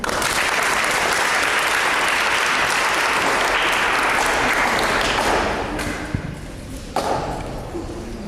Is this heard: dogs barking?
no